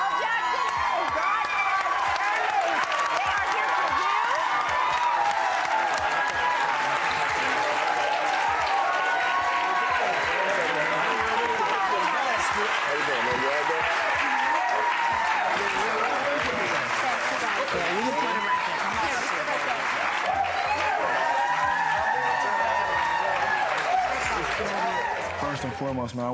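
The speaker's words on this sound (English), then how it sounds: "Wait for the applause to die down so they can hear you" A large audience applauds and cheers for a long stretch, steady dense clapping with whoops and crowd noise, loud and continuous without letting up.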